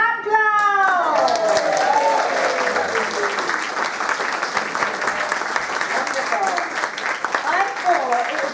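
Audience applause fills a hall, loud and steady, continuous for several seconds, while a voice calls out briefly at the start over the clapping and again near the end.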